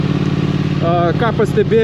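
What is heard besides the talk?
Triumph Thruxton 1200R motorcycle engine running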